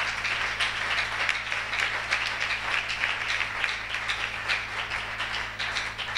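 A church congregation applauds at a Wednesday service, dense steady clapping sustained throughout, loud and close, with faint voices mixed in.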